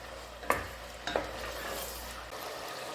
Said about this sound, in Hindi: अभी चिकन को इसमें ऐड करने के बाद ना हमें इसे अच्छे से भूनना है